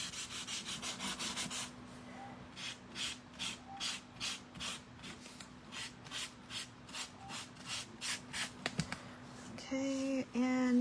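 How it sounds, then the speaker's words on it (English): Sandpaper rasps across the small face of a wooden Easter piece from a 4-inch and 6-inch square interchangeable set. Quick strokes come first, then a steady run of slower, evenly spaced strokes close up. A low hum sits underneath. "Sand the little face."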